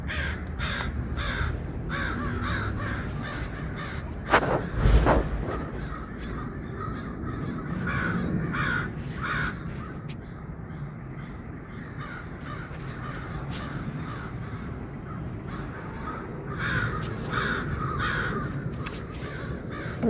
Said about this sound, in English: Those are all birds.